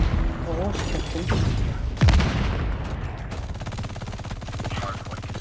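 Bursts of gunfire and booms from a multiplayer shooter match in Domination/Hardpoint mode, dense and continuous with a loud sharp blast near the middle and rapid automatic fire toward the end, under game announcer voice and player chatter.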